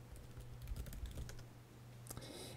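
A password is typed on a Mac computer keyboard as a quick run of soft, close key clicks over a faint steady hum, fairly quiet overall.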